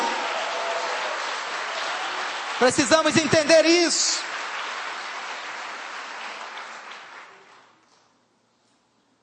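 A church congregation claps together in a broad, steady wash of applause that fades out gradually, with someone briefly speaking over it partway through.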